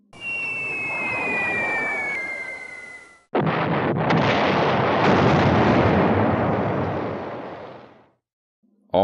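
Bombs exploding in the B-17 Flying Fortress Leader game: after a high whistling drone, a long rumbling roar of blasts rolls on for several seconds before dropping to silence, loud and broad with no talking.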